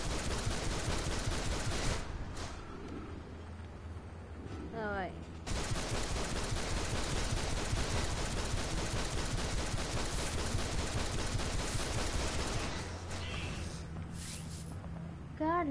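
Rapid gunfire and sustained automatic bursts fill a DCU video game match, loud and nearly continuous with short gaps, while a player's voice is faintly heard.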